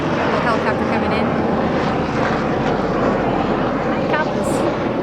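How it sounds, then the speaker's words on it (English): A police or news helicopter passes overhead above a grassy yard, a loud, steady rotor and engine roar that fills the whole stretch without a break. "Got a little helicopter coming in."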